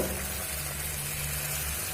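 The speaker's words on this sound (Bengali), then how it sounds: "দেখুন পরোটা কিন্তু ভাজা হয়ে আসছে" Chicken paratha batter spread flat fries in an oiled pan over low gas, a constant soft sizzle and hiss close up with faint stirring, no voices.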